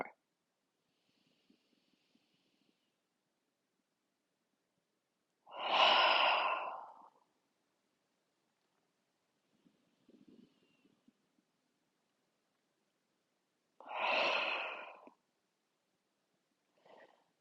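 Two slow, soft breaths, each a gentle inhale through the nose followed by a long sighing exhale, heard close and alone in an otherwise quiet room with faint sniffs between them.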